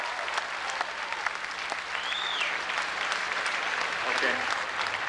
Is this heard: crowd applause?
yes